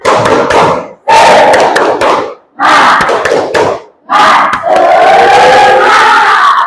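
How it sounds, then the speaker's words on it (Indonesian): Secondary school students in a classroom perform a rhythmic spirit clap chant, four loud bursts of unison clapping and shouted chanting separated by short pauses, the last burst longer and sustained. "coba tepuk semangat"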